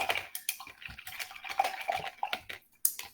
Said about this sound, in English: you can hear my brush swashing around in the cup